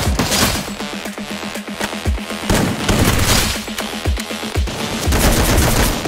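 Rapid gunfire in a video game, loud bursts of automatic shots repeating in quick rhythmic volleys throughout, with sharp cracks and low booms layered over a busy mix of game effects.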